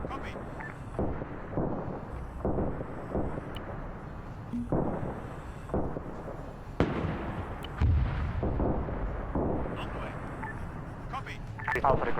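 Gunfire aimed at a tank commander in a 1948 Arab-Israeli war video game, repeated sharp shots and booms scattered through steady battle noise, with people talking over them.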